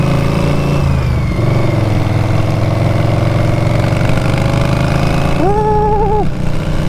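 A motorcycle engine runs steadily up close, a loud continuous mid-pitched drone with a rhythmic pulse and a brief rising whine near the end.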